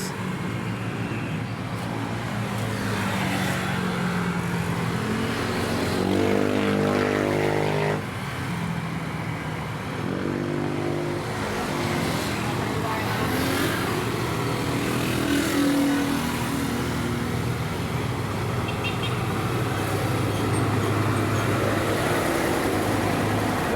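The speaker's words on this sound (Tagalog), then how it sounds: "Daming dumadaang sasakyan." Steady road traffic passing on a street in Lipa, Batangas on an evening, a continuous wash of car and motorcycle engines with vehicles swelling past close by throughout.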